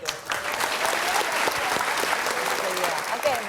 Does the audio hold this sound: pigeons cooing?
no